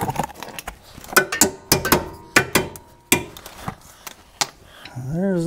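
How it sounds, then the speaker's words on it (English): Hand sawing through a seized leaf spring eye bolt on a worn 1987 Toyota 4Runner, heard as a series of sharp, uneven metallic strokes and scrapes close by, with a brief rising whine near the end. "I'll have to saw it off on either side of this spring eye and just put a new bolt in"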